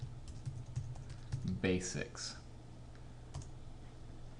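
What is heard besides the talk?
typing on a computer keyboard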